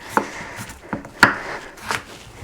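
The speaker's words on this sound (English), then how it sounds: "I'm gonna chop these up. So I just like kind of quarter it." A knife chops through unpeeled potatoes on a cutting board, quartering them for boiling: four or five sharp, close knocks at an uneven pace, with no talking.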